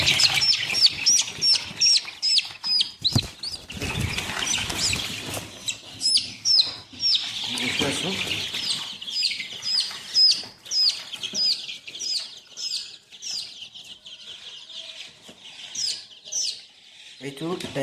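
A chicken kept as poultry, suffering from diarrhoea, clucks and chirps close by in repeated short calls, with wing flapping and a voice speaking at times.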